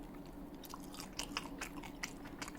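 Crunchy bites and chewing of grilled sea bream with crispy skin, a quick run of close, sharp crackles over a faint background hum.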